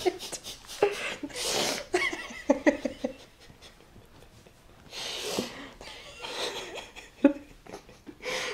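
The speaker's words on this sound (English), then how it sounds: "And I'm going to sneeze." A person sneezes close to the microphone in a casual chat setting, a sharp breathy burst followed by a second one a few seconds later, with snorts, breathing and a bit of laughter around them.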